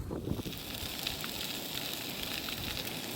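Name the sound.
bacon crackling on a cheap Chinese camping stove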